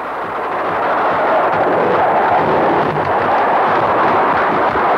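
A bomb dropped by an attacking Mirage jet near the ship SS Canberra off the Falklands in 1982, heard as a loud, sustained, rumbling roar of blast and debris with no break over several seconds.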